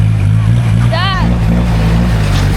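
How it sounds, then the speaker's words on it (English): A Toyota Hilux LN106 with DIY leaf-spring suspension, its engine droning steadily and loudly as the driver's wheel strains against a rock, with a brief whistling squeal partway through. "Driver's wheel's struggling to turn because of the rock in the way."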